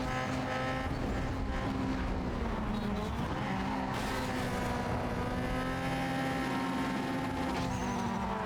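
A rival race car's engine roars steadily alongside in Need For Speed Underground 2, sustained and loud with shifting pitch and some tire squeal, filling the whole stretch without talk.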